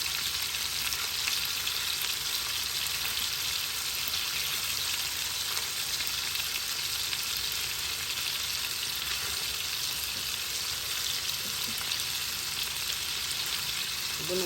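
Meatballs frying in a pan give a steady, dense sizzle throughout, close and even, with no talking over it.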